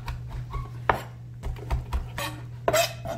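Ham being minced with a knife on a cutting board, a handful of separate chops and knocks with pauses between them, close and fairly quiet, no talking.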